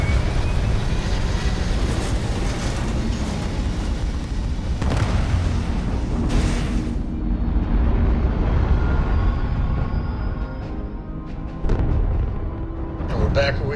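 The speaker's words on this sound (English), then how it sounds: "We have liftoff." A spaceship lifts off in the video game Starfield, a loud, continuous rumbling roar of engines with surging bursts, gradually thinning and fading toward the end.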